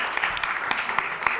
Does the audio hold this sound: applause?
yes